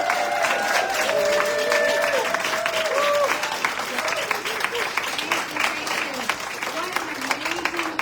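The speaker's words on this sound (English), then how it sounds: "Let's give everybody a big applause again." Audience applause at an evening climate justice event, steady clapping from a crowd that swells early and carries on throughout, with a voice talking over it at the start.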